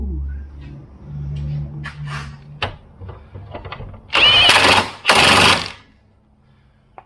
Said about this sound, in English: Thank you, Lord, for power tools.